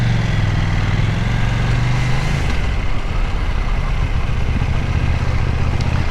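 A KTM 790 Duke parallel-twin motorcycle engine while riding, a loud, steady low rumble with strong bass and a slight dip in pitch partway through, mixed with constant wind and road noise.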